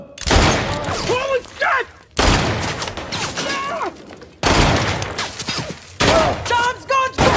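Movie gunfire in repeated loud bursts of sharp shots separated by short gaps, with a voice shouting exclamations between them.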